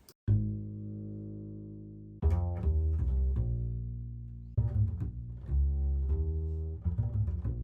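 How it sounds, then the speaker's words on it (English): Deep plucked upright bass notes play a slow walking line, resonant and close, each note ringing with woody warmth, no talking. "samples of an actual double bass which I found on Splice"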